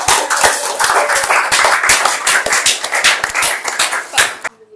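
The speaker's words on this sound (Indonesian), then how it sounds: "Kelompok jerapah kita kasih tepuk tangan atas presentasinya." Classroom of students claps for a group presentation, a loud, close burst of uneven individual claps that cuts off abruptly at the end.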